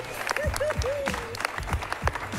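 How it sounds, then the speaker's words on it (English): An improv comedy audience at a holiday show applauds in a scattered, moderately loud patter, with voices and laughter-like sounds mixed in. "Give them a round of applause!"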